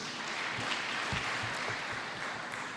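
Audience applause for Kevin at a political gathering, a steady burst of clapping from a crowd heard at a distance.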